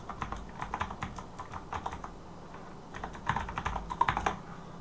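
Clicky typing on a Razeak Hunter RK-X16 mechanical keyboard with blue switches, in quick irregular bursts with short pauses, close by and fairly quiet, with no talking.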